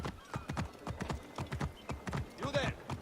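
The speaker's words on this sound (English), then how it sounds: "Another guy on a horse." A horse ridden by a character in a video game clip-clops at a steady trotting rhythm, close and distinct, with a brief whinny near the end.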